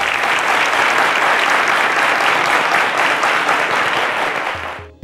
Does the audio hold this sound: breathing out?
no